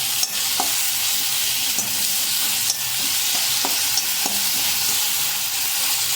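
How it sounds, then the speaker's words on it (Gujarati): Potatoes cook in a pan with an even, moderate sizzle, broken by regular sharp clicks and scrapes of a spoon stirring them. "બટેકાને સરસ રીતે પાકવા દેશું"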